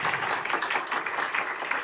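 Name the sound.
audience applause at a campaign canvass kickoff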